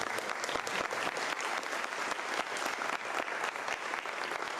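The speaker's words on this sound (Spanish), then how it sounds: "Un fuerte aplauso, por favor." A steady round of audience applause, dense clapping from many hands with no voices standing out.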